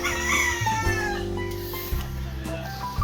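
Chickens cluck in a busy yard while a rooster lets out drawn-out crows nearby, the calls overlapping loudly for a few seconds.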